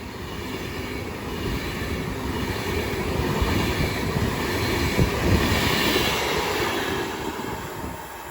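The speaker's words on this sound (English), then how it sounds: "390 Pendolino, going from London Euston to Manchester Piccadilly." An Avanti West Coast Class 390 Pendolino running from London Euston to Manchester Piccadilly passes through Watford Junction on the West Coast Main Line, a steady, loud rushing roar that swells slightly mid-pass and never fades out.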